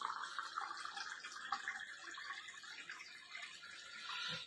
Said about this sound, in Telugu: సెకండ్ కప్పులో Vestige sharp water purifier the filter చేసిన వాటర్